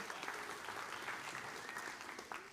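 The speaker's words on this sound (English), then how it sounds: "So round of applause for the moms this morning" A church congregation at Sunday worship claps for the moms, a faint, even wash of applause from a room full of people, sustained throughout with no voices standing out.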